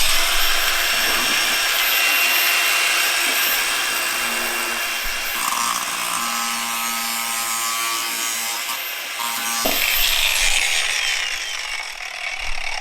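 Milwaukee power tool grinding against a box, a loud continuous high-pitched whine and buzz close by, shifting pitch midway and surging near the end.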